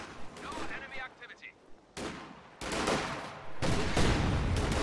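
Gunfire and tank combat in a WWII strategy game, with Sherman tanks and infantry trading shots. Dense bursts of rifle and machine-gun fire and heavy booms come in close, overlapping waves that grow louder toward the end.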